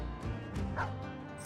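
War dogs in the video game Battle Brothers, several sharp barks and yips in quick succession, close and fairly loud, with a brief whimpering tone among them.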